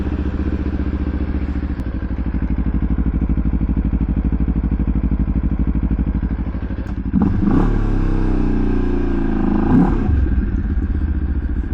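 A motorcycle is ridden, its engine running with a steady close throb. Partway through it revs up in two louder surges with clattering mechanical noise, then settles again. Nobody speaks.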